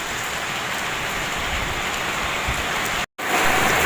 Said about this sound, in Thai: ฝนเทลงมา